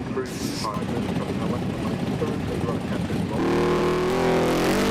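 Drag racing cars at a Street Eliminator national finals meet, with a continuous loud engine roar and rumble that rises to a stronger, harsher drone near the end, under an announcer's commentary.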